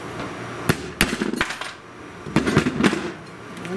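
Metal tools tap and pry at the riveted data plate of a 1932 Delco 16-inch fan during a tear-down, giving a handful of sharp clinks and knocks in two short bursts with a quiet gap between.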